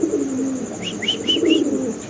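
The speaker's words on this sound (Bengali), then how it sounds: "ওই কবুতরগুলো দেখেন" Pigeons at a fancy pigeon farm coo in a short run of three or four soft, rising-falling calls over a steady low background hum, fairly close and moderately loud.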